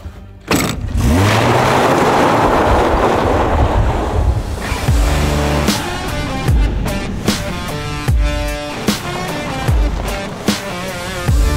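A car drives off and picks up speed, its engine rising under strong rushing wind and road noise, then steadies as it cruises, with rhythmic thumps and rattles along the way.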